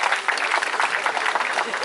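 Audience applauding at a bird show at Taronga Zoo, a dense, steady wash of clapping from a crowd that fills the whole moment without a break.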